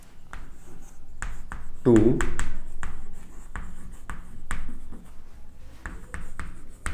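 Chalk or marker scratches and taps on a board during a biology lecture on classification, with short strokes and clicks spread throughout while a teacher keeps talking in Hindi.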